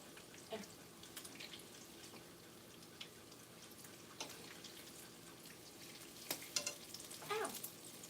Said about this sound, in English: One thing you have to watch out when you're doing bacon, you get little spatters.